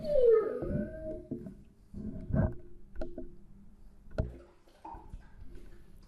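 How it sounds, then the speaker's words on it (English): A dog whimpers and whines nearby, starting with a rising high whine, then softer yelps and snuffling noises scattered through a quiet room. "I'm sure you could hear my dog in the background."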